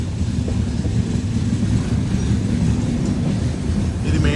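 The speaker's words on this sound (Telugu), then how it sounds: "ఇది మెయింటెనెన్స్ ట్రైన్" A track maintenance train rolls past on the South Central Railway line, a dense, steady rumble and rattle heard from a moving express train, loud and continuous with no voices.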